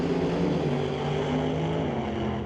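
Two drag race cars launching side by side at a drag strip event, one a 2010 Chrysler PT Cruiser, with loud sustained engine roar and steady tonal drone holding throughout.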